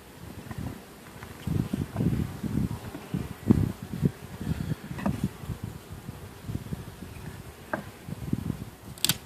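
Honeybees from a growing spring colony buzz around an open hive during an inspection, a close, fluctuating drone of many wings that swells and fades, with occasional louder passes near the microphone.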